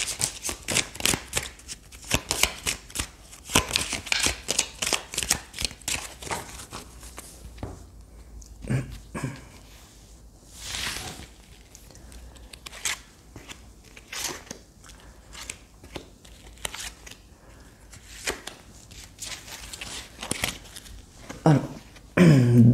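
Tarot cards are shuffled up close in quick, papery riffling bursts, followed by sparser taps and slides as cards are handled and set down.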